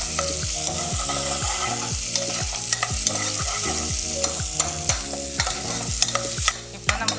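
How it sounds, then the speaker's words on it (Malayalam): Small coconut pieces and shallots frying in ghee for kalathappam, a steady sizzle under quick, rhythmic stirring strokes that scrape the pan again and again, close and fairly loud, with no voices. "നാളികേരക്കൊത്തും പിന്നെ ചുവന്നുള്ളിയൊക്കെ നെയ്യിൽ മൂപ്പിച്ചെടുക്കണം"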